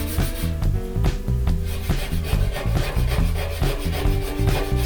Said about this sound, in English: You see here I'm using some probably 80 grit sandpaper.